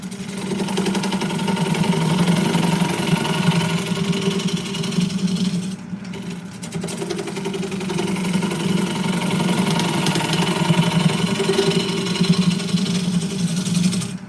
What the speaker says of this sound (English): You can also use a carbide blade, carbide tipped gouge, I should say.